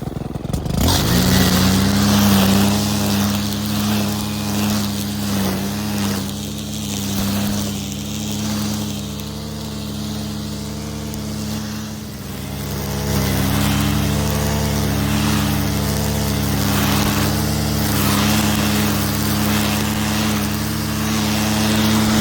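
A motorized trimmer drones steadily for over twenty seconds, cutting vegetation along a path in the Algarve hills, its engine pitch wavering slightly as it works close and loud, with no talking.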